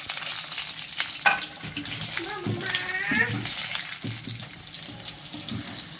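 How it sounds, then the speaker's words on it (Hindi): Sliced potatoes for aloo ki katlian are tossed and stirred in a hot pan, a soft sizzle under scraping and clattering of the spoon, with a brief watery splash partway through and quiet background noise. "मैं इसमें आलू की कतलियाँ मिक्स करूंगा।"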